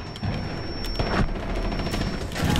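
A nitro cell detonates in Rainbow Six Siege amid ongoing gunfire, a dense burst of booms and crackling shots with rumbling low end, loud and close, continuing over the whole moment without speech.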